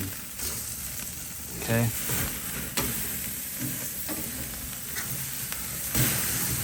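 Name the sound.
steak sizzling on a grill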